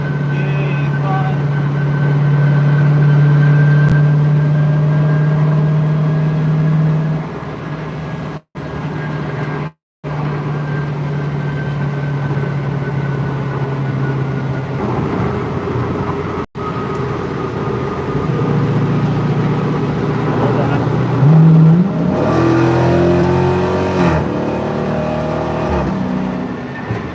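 From inside a car cruising along an entrance ramp onto the road, a continuous engine and road drone rises and falls in pitch as the car speeds up, with a few brief dropouts.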